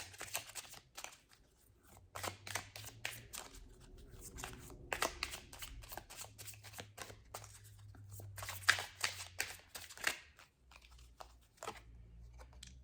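A deck of romance angel cards is shuffled close by, giving quick papery riffles and soft flicks in irregular bursts with occasional crinkling.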